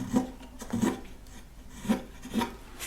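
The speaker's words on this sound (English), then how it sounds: "I would just use this flat tool" A flat carving tool scrapes across a piece of wood, shaping a carved leaf over the edge. Several short, distinct rasping strokes come at an uneven rhythm, close and fairly quiet.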